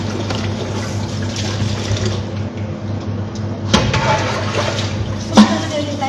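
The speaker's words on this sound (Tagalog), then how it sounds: "So maglalagay tayo ng tubig dito sa langganita." Water runs from a tap into a basin for washing raw chicken meat, a steady splashing pour at close range with a couple of brief clunks.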